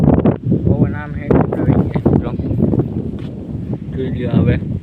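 Strong, gusty wind blows outdoors near a large banyan tree, roaring and buffeting steadily close to the microphone while people talk over it.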